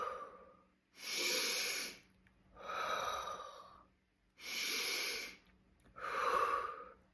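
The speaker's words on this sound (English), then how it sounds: "we're going to start by doing 3 deep breaths and exhale." Four slow, deep breaths, each a long airy inhale or exhale separated by short pauses, close and soft, with no talk.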